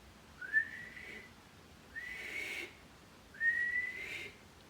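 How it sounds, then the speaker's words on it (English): Someone whistles by blowing outward, three short rising tones, each held about a second with pauses between, breathy and close, with no other sounds. "This is me whistling outwards."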